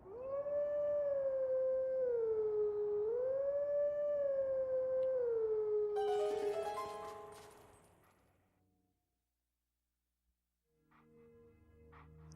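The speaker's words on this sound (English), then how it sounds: "Alright, so let's howl." A wolf howls in Legend of Zelda: Twilight Princess, a loud sustained rising and falling tone lasting several seconds before fading into silence, followed by faint game sounds.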